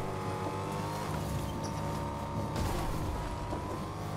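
A car drives in a video game with a continuous, close engine drone and a faint tire squeal, holding a fairly even level throughout.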